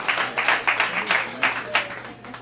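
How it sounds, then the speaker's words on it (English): An audience claps for a community leadership award speaker, a few seconds of moderately loud applause with distinct rhythmic hand-clap bursts over a low steady hum. "another round of applause, please"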